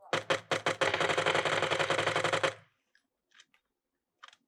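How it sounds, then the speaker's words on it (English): A burst of rapid automatic gunfire in a video game rattles loudly for a couple of seconds, then stops, leaving only a few faint clicks. "I can hear the gunshots."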